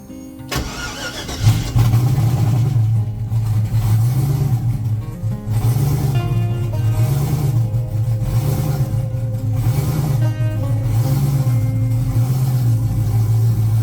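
A drag car engine cranks and catches, then settles into a loud, throaty idle with rhythmic surges of revving, close by and without talk.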